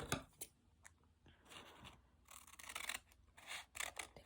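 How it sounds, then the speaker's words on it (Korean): Scissors snipping through paper while cutting out a folded paper craft, a run of short crisp cuts and rustles, close and fairly quiet, with brief pauses between strokes. "가위나 칼로 잘라주면 돼요."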